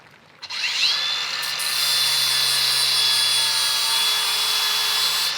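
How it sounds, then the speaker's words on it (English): A power tool grinds the edge of a metal lower control arm bracket on a Toyota N60 4X4, starting with a brief knock before a steady, loud whine that holds for several seconds close by. "So we'll grind that back"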